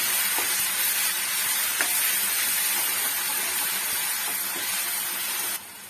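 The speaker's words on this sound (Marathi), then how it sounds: "याला छान आपण परतून घेऊया आणि फ्राय करून घेऊया" Brinjal curry with ground masala sautéing in a hot pan, giving a loud, steady sizzle with a few soft stirring scrapes, alone, before the frying suddenly quietens near the end.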